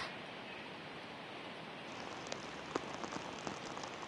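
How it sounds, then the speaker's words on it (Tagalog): Heavy rain in Baguio City and Benguet pours down as a steady, dense hiss, with a few louder drops and splashes standing out near the end; no voices are heard. "Emil, patuloy pa ring nararanasan ang malakas na pag-ulan dito sa Baguio City at Benguet"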